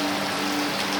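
Steady rain pours down during an outdoor rain bath, a dense, even hiss of falling water filling the whole second with no talk.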